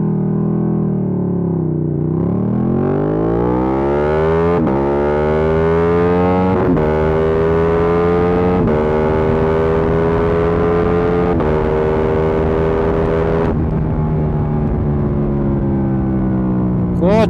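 A Ducati motorcycle engine revs up hard in sport mode, rising in pitch through several gear shifts with clear breaks between them, loud and close throughout.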